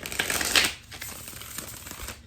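A deck of Lord of the Rings tarot cards with a smooth matte finish is riffle shuffled, a close crisp burst of fluttering card clicks followed by softer taps as the deck is squared.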